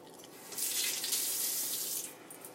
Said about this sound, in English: I strain it out. Wow, it's splashing.